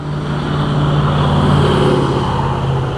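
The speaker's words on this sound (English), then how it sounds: "there's going to be some car sounds going by. We're right here by a main road." Steady traffic on a nearby main road on a nasty day: a continuous, fairly loud roar with a low engine hum swells slightly as cars go by, with no voices.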